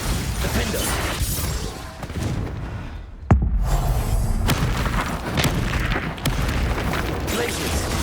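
A Bombarda spell detonates in Hogwarts Legacy amid combat, a sharp loud boom midway followed by rumbling debris and further crackling impacts over a busy battle din.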